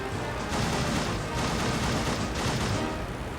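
Machine gun fire from a WWI aircraft in the Rise of Flight flight simulator game: a loud, dense, unbroken rattle of rounds that fills the whole stretch.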